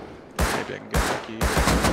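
A Tommy gun in the video game Rust fires three loud, close automatic bursts in quick succession, each a sharp rattling volley separated by brief pauses.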